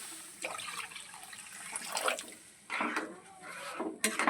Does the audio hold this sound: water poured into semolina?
yes